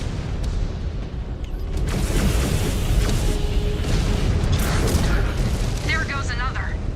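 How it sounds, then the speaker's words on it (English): Missile explosions in the mech combat game MechWarrior 5: Clans, a continuous loud rumbling boom with a dense low roar and a mechanical clatter, under a voice speaking. "Incoming missile."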